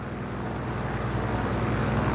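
Steady, close aircraft engine drone with a low propeller-like rumble as a plane comes in to land at a main runway in Just Cause 4, holding an even level throughout with no talk.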